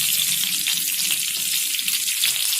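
Ginger leaf, a small piece of cinnamon and a single clove frying in leftover oil for mutton gravy give a steady, close, bright sizzle and crackle that carries on without pause and with no talking.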